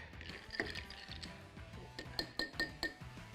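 Ice clinks against glass as a cocktail is swizzled hard, a run of sharp, bright ticks that sharpen into a few louder clinks near the end, fairly close, with no voices.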